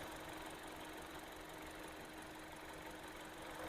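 A 2020 Hyundai i20 Sportz petrol engine idles in a steady, even hum with a faint continuous rattle, quiet and unchanging throughout with no voices.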